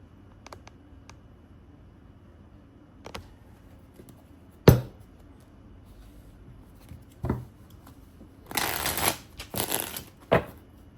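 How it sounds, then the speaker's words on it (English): Scattered tarot card handling taps give way to two quick riffle shuffles, fluttering bursts of cards snapping together near the end, close and crisp. "Beautiful riffle, shuffle, easy to control."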